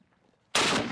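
An AK-50 rifle fires a single loud, close shot that bursts in suddenly after near silence and rings on briefly.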